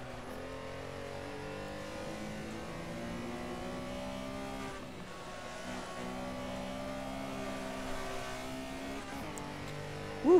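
A Porsche Carrera Cup car in a sim racing game drones through sustained engine pitch sweeps, rising and falling with gear changes under acceleration, steady and close throughout, ending on a brief sharp bump.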